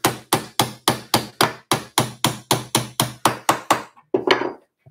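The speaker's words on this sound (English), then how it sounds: "And a hammer." A hammer strikes wooden dowel in a 3/8-inch hole during Adirondack chair building, about fifteen sharp, evenly spaced blows in a steady rhythm, loud and close, followed by a brief scraping rustle.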